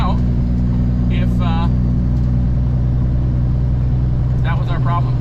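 A truck's engine idles with a steady low, heavy rumble after an injector replacement, running continuously close by while brief bursts of voices or squeaks come through.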